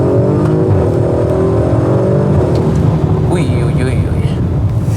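Sportec-tuned Audi RS4 B9 in RS mode and second gear accelerating hard, a loud, close engine roar rising in pitch with turbocharger whoosh, while a voice exclaims briefly over it.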